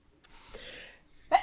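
A single short, sharp sneeze bursts out at the very end after a stretch of quiet breathy noise, faint and close in an indoor chat setting.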